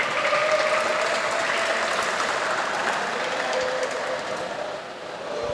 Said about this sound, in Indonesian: Tepuk pagi, tepuk pagi, tepuk siang, tepuk siang, tepuk malam